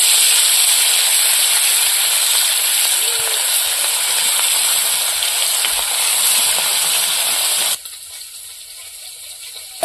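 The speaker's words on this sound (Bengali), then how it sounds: "এবার মাছগুলো ভেজে নেব।" Catla fish pieces sizzle in hot oil, a loud, dense, steady frying hiss heard close up that cuts off sharply near the end, leaving a quieter background.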